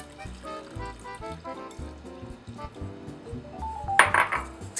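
Water is poured into a chickpea flour batter in a bowl, with soft clinks of utensils and a rising liquid splash near the end, heard close and moderately quiet.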